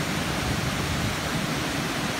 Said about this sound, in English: And this waterfall is amazing.